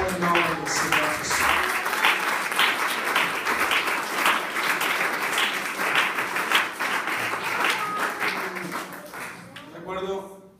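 Church congregation applauding together, a dense steady wash of many hands clapping for about ten seconds before it fades and a voice begins speaking.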